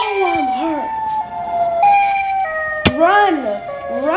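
Siren Head's wailing siren in Minecraft, a loud rising and falling electronic siren tone that sweeps up and down with a sharp burst partway through, heard with a voice in the background.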